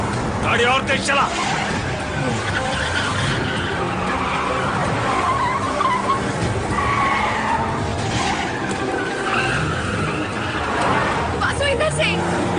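A car in a fast movie chase scene, with tire skids and squeals over revving engine noise, continuous and loud, while voices shout urgently over the action.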